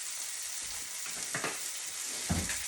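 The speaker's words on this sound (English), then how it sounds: "I've got my vegetables sauteing over there a little bit." Vegetables sauté in a pan on a farmhouse stove, giving a steady, soft sizzle with a couple of brief stirring scrapes.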